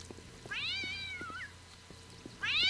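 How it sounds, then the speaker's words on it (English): Cats meow inside a room in the video game Postal 2: two long, rising meows sound close by over a low, pulsing game background. "Is it just a bunch of cats?"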